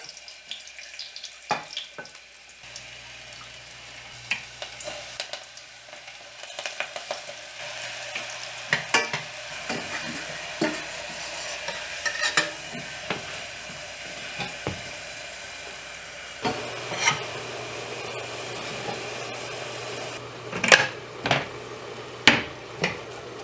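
Onions frying in oil for a gluten-free green bean casserole, dropped into the pan and stirred, giving a steady crackling sizzle with intermittent scraping and sharp pops and clicks growing louder toward the end.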